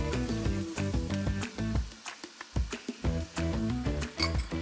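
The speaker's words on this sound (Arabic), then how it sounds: "بنقلي البصله لحتى تضل بياض اول الشعر تبعها" Onions frying in a pan give off a bright, crackling sizzle that comes in dense bursts with brief quieter gaps, close and fairly loud with no talking.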